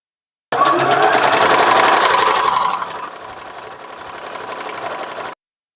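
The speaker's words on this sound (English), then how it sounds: "I'm just sewing along the very end there where it'll be hidden in a seam" A sewing machine runs steadily along the very edge of lined fabric layers, its loud whirring stitch fairly close, then easing to a slower, quieter hum partway through; no one speaks.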